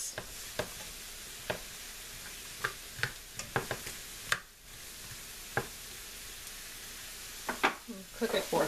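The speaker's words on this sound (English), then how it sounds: "that's going to deglaze that pan also" Brussels sprouts sizzle steadily in a hot pan as liquid deglazes it, a soft continuous hiss broken by scattered clicks and taps of stirring.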